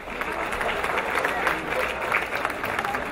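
Crowd applause at an Independence Day parade event in Tepalcingo for councillor Armando Sánchez Briones, a steady, fairly faint patter of many hands with a voice speaking over it.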